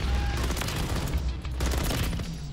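Dense bursts of gunfire from the video game Modern Warfare III, rapid loud shots in clusters with brief gaps, heard without talk.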